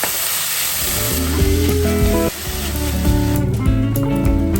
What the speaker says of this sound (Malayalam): നമുക്ക് ഇതിനകത്തേക്ക് നമ്മൾ അരിഞ്ഞു വെച്ചേക്കുന്ന കൂണിട്ട് കൊടുക്കാം കേട്ടോ. ഇത് ഇടാം, നല്ലപോലെ മിക്സ് ചെയ്ത് കൊടുക്കാം.